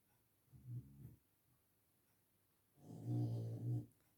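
Three dogs snoring in a kitchen, two low rumbling snore breaths a couple of seconds apart, the second longer and louder, close by in an otherwise quiet room.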